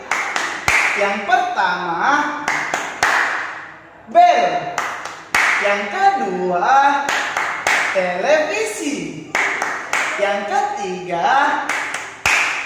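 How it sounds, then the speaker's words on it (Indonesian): Rhythmic hand clapping in a primary classroom chant, sharp claps in regular patterned bursts mixed with a teacher and children chanting aloud throughout. "Tepuk alat-alat tik."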